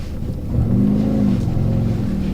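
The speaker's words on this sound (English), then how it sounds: "Okay, so now we are going for a test drive." A Peugeot 206 pulls away on a test drive after a check engine light fault, its mid-pitched engine revving up and rising in pitch for a couple of seconds, close and steady with no talk.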